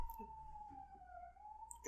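An ambulance siren passes at a distance, a faint, sustained wailing tone that drifts slightly in pitch over a low background rumble.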